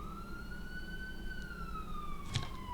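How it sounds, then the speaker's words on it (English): An ambulance siren wails steadily over road noise, its pitch slowly rising then falling as it passes, with a brief clatter near the end. "sorry, there's an ambulance come by."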